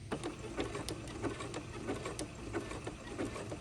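A sewing machine runs a zig-zag gathering seam, giving a faint, steady mechanical whir with a quick repeating needle tick, running continuously and softly for a few seconds.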